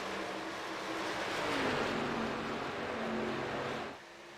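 ARCA Series race cars at speed on the Texas oval, a faint engine drone that rises and falls as cars pass, before the sound drops off sharply near the end.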